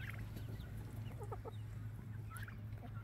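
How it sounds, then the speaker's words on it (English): Hens and a rooster named Big Red cluck softly in a coop, several short chattering calls bunching in the middle of the stretch over a low constant hum, faint and a little distant, with no voices. "There's Big Red right down there. He's our main rooster."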